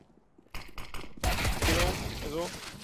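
A video game fires off a burst of rapid gunshots in bursts and crackles, loud and dense, with voices talking and reacting over the shooting.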